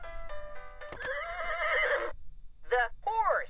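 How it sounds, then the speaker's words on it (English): A VTech Talking Apple Alphabet toy plays a recorded horse whinny, a bright tonal neigh lasting about a second, then two shorter whinnying calls, all clear and close through the toy's small speaker. "The horse runs very fast."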